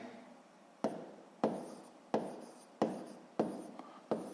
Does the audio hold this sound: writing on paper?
yes